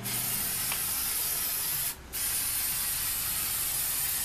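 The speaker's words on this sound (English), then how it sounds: "I think you kind of get the idea of what I'm doing here as far as spray painting" Steady hissing spray from an aerosol can painting a folding chair, loud and close, running almost continuously with one brief pause midway.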